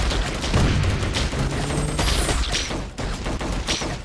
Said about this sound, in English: Let's drop a bomb on that